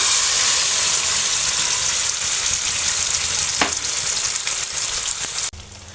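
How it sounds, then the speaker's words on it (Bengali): Blended carrot paste hits hot ghee in a pan and fries with a loud, steady sizzle and hiss, a few sharp pops and spatters breaking through before the sound drops off abruptly near the end. "ঘিটা গরম হয়ে আসছে, আমি এখন ব্লেন্ডার করে নিয়েছি যে গাজরটা, এটা দিয়ে দিচ্ছি"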